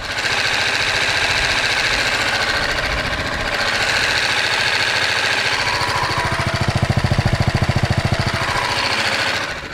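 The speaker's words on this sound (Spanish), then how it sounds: "Este sería su sonido en ralenti." A BMW G 310 R single-cylinder motorcycle engine idles up close with a loud, steady, rapid thumping pulse that swells slightly in the second half.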